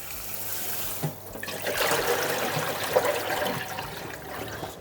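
Cold tap water runs steadily over cooked duck pieces in a strainer, a continuous splashing rush with small irregular spatters, close and fairly loud, with no talking.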